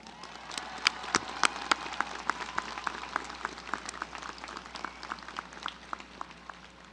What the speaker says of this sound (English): Please give a round of applause for Jade Flater.